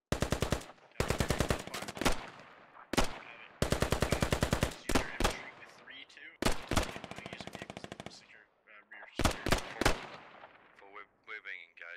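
A DShK heavy machine gun fires in a video game, loud close bursts of rapid rhythmic shots separated by short pauses, with a few single cracks and some speech-like sounds in the gaps.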